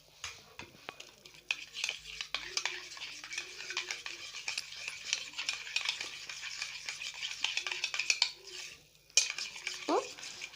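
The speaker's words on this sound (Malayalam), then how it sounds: "ഇനി നമുക്കിതൊന്ന് നന്നായിട്ട് മിക്സ് ചെയ്ത് കൊടുക്കാം." A homemade hair gel mixture is stirred in a container, producing quiet, rapid scraping and clinking spoon taps in an irregular rhythm that pause briefly near the end, without speech.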